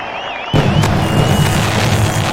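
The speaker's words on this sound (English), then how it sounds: "The firework operator gets one more exercise for this season" Fireworks boom and crackle after a home run in a baseball video game, a sudden loud burst that swells into a dense, sustained rumble of explosions with a faint whistling tone drifting above.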